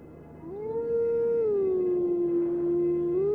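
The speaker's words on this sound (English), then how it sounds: "That's really like my biggest problem with these wolf howls." A video game wolf howl, one long sustained tonal call that rises, holds steady and dips slightly before lifting again, loud and clear with no talking.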